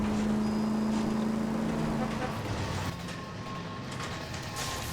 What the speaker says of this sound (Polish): Właśnie wpadłem pod tramwaj, ale nieważne.